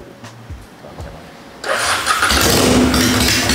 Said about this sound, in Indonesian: Kalau sekarang lo pencet aja udah langsung nyala nih motor.